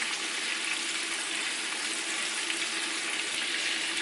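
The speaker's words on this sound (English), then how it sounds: "Now that it's starting to fry and get some color" Chicken fries in a pan with a steady, even sizzle that holds at moderate volume throughout, with no talking.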